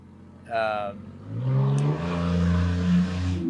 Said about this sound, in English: there goes that torpedo truck again